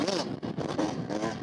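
A 2020 Yamaha YZ125X two-stroke dirt bike on a ride test, its engine revving steadily and loudly up close with rising and falling pitch through a technical section.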